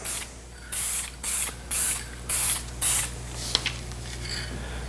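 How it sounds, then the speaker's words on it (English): Clear coat sprayed onto antique brass pieces from an aerosol can in five or six short, loud hissing bursts, evenly spaced, followed by a brief click and quiet. "I'll clear coat these and set them aside to dry."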